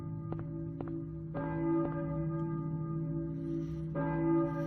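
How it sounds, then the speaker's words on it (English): Church bells toll in the Silent Hill video game, with several resonant strikes spaced a second or more apart, each ringing out with long sustained tones that overlap as they fade, moderately loud and unaccompanied by voices. "I hear a... church bell, I think"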